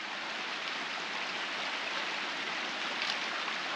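A raging river at a mountain crossing in the Dolomites roars as a dense, constant broadband rush, loud and close with no break, and no one talks over it.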